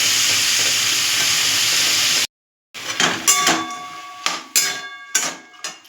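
Vegetables with a little salt sizzle in a frying pan, a steady hiss that cuts out briefly, then returns with several sharp scraping stirs of a utensil against the pan.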